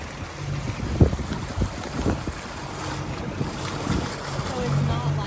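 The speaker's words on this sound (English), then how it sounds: "now we're just motoring out the canal" A motorboat motor hums low and steady along a canal beneath gusty wind noise and splashing water, with a few soft thumps along the way.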